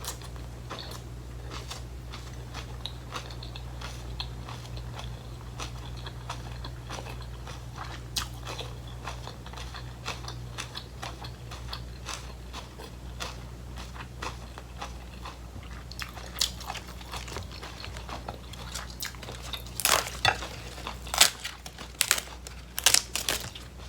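Someone eats a seafood miang wrap with crispy sweet peppers, with close, crisp biting and crunching that grows louder and more frequent near the end over a steady low hum.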